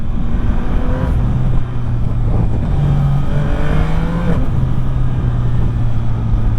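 A 2025 Yamaha MT-09 A2 motorcycle pulls hard from low revs, its engine note rising and surging in loud, close, rough pulls with rising tonal sweeps.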